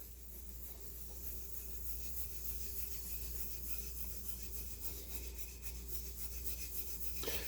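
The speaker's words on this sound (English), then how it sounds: "I'm rubbing and cutting this in to the wood grain." Board butter rubbed by hand into the grain of a wooden charcuterie board, a continuous soft, close rasping friction with a faint, even rhythm.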